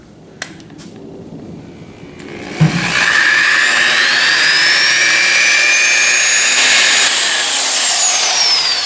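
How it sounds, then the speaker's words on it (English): A power buffer spins up with a pad on a Ford Ranger chop-top body, climbing to a steady, loud high-pitched whine that holds close and continuous after a brief knock at the start. "Now I was not putting a lot of pressure on that when I was doing that buffing."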